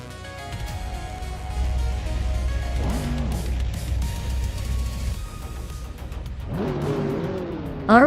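Race cars at the Montmello Rallycross circuit roar and rev in a racing video game, engines whining as cars pass by, with a steady engine drone and rising pitch sweeps.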